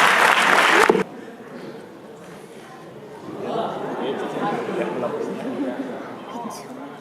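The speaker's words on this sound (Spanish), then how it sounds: "un fuerte aplauso para Inma" Spectators at a cosplay contest at a Valencia comic convention give a burst of loud applause that stops abruptly after about a second. Quieter crowd murmur and chatter follow and gradually grow.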